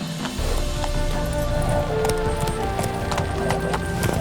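Roach the horse gallops in The Witcher 3, her hooves drumming in a quick, steady clip-clop close by with a brief snort-like whinny mixed in.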